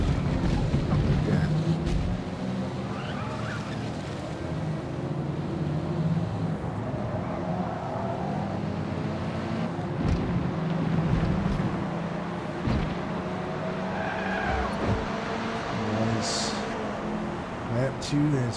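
Sedan race car engines roaring in Forza Motorsport, a continuous loud engine drone with shifting pitch throughout, under someone talking.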